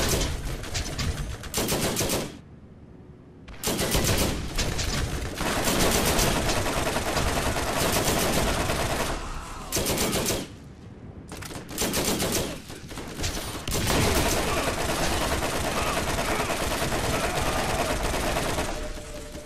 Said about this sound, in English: there's someone firing rockets at me